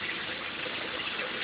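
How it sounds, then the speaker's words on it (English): Water steadily gushes and splashes from the overflow of a raised aquaponics fish tank fed by a pipe, a constant close rushing sound with no voices. "it has a pipe feeding it with water, and it's only going to overflow out what you put in it"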